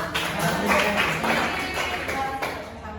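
Classroom clapping from students, a dense, steady patter of many hands that carries on through the whole stretch at moderate loudness, with a faint voice or two mixed in.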